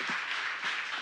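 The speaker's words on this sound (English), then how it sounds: "Give yourselves a round of applause" Brief, soft burst of audience clapping in a talk setting, a short even patter of hands lasting about a second.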